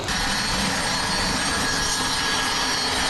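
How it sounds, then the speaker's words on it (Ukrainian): Light aircraft engines droning loudly at an air show hosted by the Kharkiv aero club, a steady broad roar that holds for a few seconds with no talking. "Понад 10 типів літаків малої авіації продемонстрували унікальні сольні та групові номери повітряного фрістайлу."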